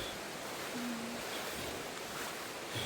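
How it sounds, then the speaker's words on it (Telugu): Water rushes steadily at Valasa Waterfalls in the rain, a continuous broad roar heard up close with no break, mixed with faint wind buffeting. "మీకు వాటర్ సౌండ్ వస్తూ ఉంటుంది వీడియోలో బాగా"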